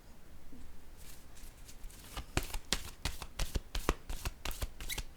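Tarot cards are shuffled by hand, beginning with soft handling rustle, then a run of quick, crisp riffling bursts close up in an otherwise quiet room.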